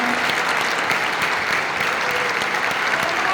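A church concert audience claps together after a soprano's performance of hymns with piano accompaniment: thick, even, sustained applause from a large crowd with no break.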